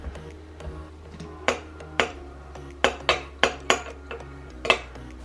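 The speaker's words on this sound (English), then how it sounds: "Mixing 1 tablespoon of soy sauce with grated garlic." Soy sauce and grated garlic being mixed in a small dish, heard as a series of sharp metal-on-ceramic clinks and taps from a spoon, irregular and close, alone.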